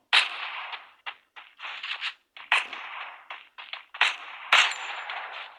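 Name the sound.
gunfire in the video game Free Fire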